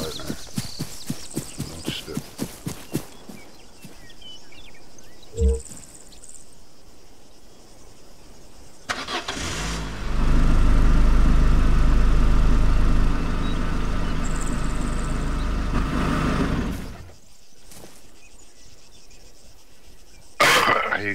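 A vehicle engine in ARMA 3 roars to life with a loud burst, runs at a steady heavy rumble for several seconds, then drops away, following earlier clopping footsteps and insect chirps.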